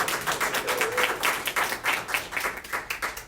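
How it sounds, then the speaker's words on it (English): A live audience at a board team training session breaks into sustained applause, a dense patter of many hands clapping in a steady rhythm for a few seconds. "Let's give her a round of applause."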